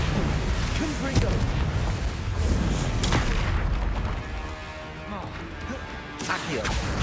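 Spell blasts from the Confringo fire spell in Hogwarts Legacy, a run of loud booming, crashing impacts layered over game music and effects, with a voice calling out spell names during the fight.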